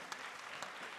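A church congregation claps during a Sunday worship service, a dense steady wash of many hands, fairly faint and distant, filling the whole brief moment without pause.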